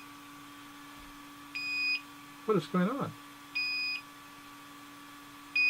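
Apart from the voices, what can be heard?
DJI Mavic Air drone beeping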